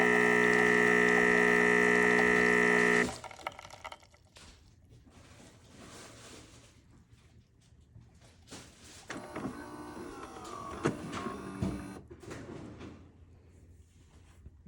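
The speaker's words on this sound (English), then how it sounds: "So now it's making the first espresso" A Philips coffee machine making espresso starts with a loud, steady mechanical whir for about three seconds, then shifts to quieter gurgling, hissing and clicking as the drink is brewed.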